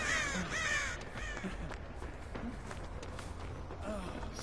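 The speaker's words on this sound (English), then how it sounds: "So many fucking crows." Crows caw harshly in a video game, several calls at the start and then fainter ones against a busy background with footsteps, and no clear talking.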